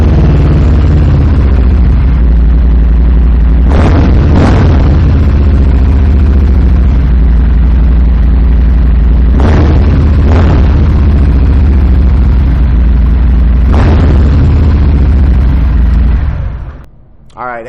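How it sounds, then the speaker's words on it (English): A loud, steady low engine rumble from a 2019 Harley-Davidson Softail Fat Bob motorcycle with Vance & Hines exhaust runs throughout, with a few brief revs rising over it before it cuts off near the end. "I am going to take the opportunity right now to fire it up so you can hear that Vance & Hines"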